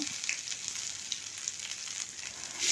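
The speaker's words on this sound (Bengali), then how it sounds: "এরপর ফোড়ন হিসাবে দিয়ে দিলাম সর্ষে আর শুকনো লঙ্কা" Mustard seeds and dried red chillies tempering in hot mustard oil in a kadai, giving a steady close crackling sizzle with scattered pops and no voices.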